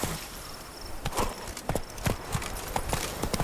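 Roach the horse's hooves clip-clop in The Witcher 3, a quick run of sharp, close hoofbeats striking in an uneven trotting rhythm over faint background ambience.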